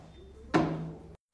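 A drawer at a makeup station slides open with one loud wooden-sounding scrape and thump, close by, fading after about half a second before brief silence.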